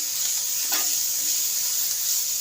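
Peanut thecha is sautéed in oil in a pan, producing a steady, even sizzle and hiss throughout, with a faint stir-like scrape partway through and no talking.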